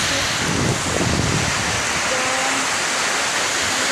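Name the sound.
storm with wind and rain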